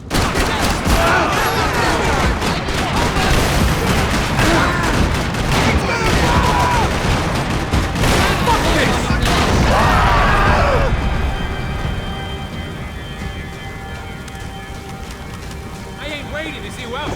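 Rapid gunfire rattles through a loud firefight in Max Payne 3, dense and sustained for about ten seconds before dropping to a quieter hum of background noise, with some speech mixed in.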